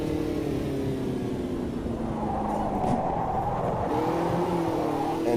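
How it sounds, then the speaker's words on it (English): Racing cars in Automobilista 2 roar steadily at close range, engine drone and tyre noise blending into one continuous, loud wash with no pauses. "They could do something about the tyre sounds."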